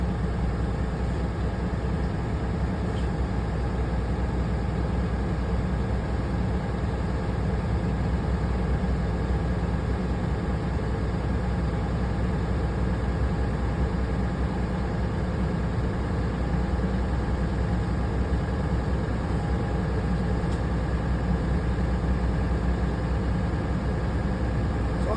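A vehicle engine runs at steady, raised revs during a 2023 vehicle inspection, making a loud, constant drone that continues unbroken throughout with no voices.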